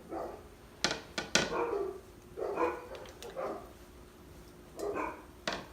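Several sharp dog barks ring out in a few bursts, fairly close, separated by short pauses of quiet room sound.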